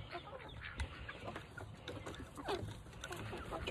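Chickens cluck softly in the morning, with scattered short clucks and calls from a small flock over quiet outdoor background noise.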